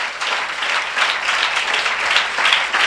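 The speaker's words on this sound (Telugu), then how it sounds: "ఏడిసినట్టు కొడుతున్నారు చప్పట్లు" Audience applause at a church sermon, a steady dense wash of many hands clapping at once, continuous and fairly loud for the whole stretch with slight swells.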